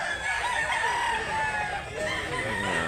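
Chickens at a rural poultry market, with a rooster crowing loudly and close alongside clucking hens, continuous over faint background chatter.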